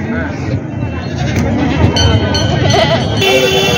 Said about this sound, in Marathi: समोर बिटल जाती शेळी आहे ही